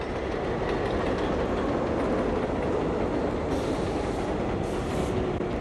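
A subway train at Jackson Avenue station in the Bronx gives off a loud, continuous rumble of rolling wheels and rail noise, steady throughout with no voices.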